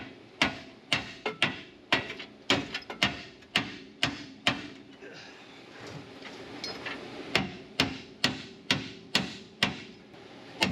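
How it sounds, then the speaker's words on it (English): Sharp metallic hammer blows ring out while a part is driven into place on a 1972 Chevy Suburban, struck in quick rhythmic bursts with a short pause midway, loud and close with no talking. "I'm gonna hammer it from the back first."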